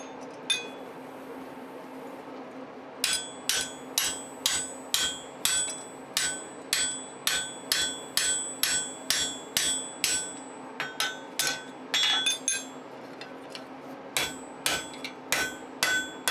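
A hammer drives a drift through a hole in forged tong jaws set over a short upright pipe, a long series of sharp, ringing metallic blows in steady rhythm, with a brief pause midway, near and clear over a quiet hum.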